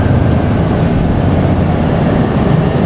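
A passing train near Cimekar station on an Indonesian railway line, heard as a steady, loud low rumble with a faint high whine above it, continuous throughout with no voices.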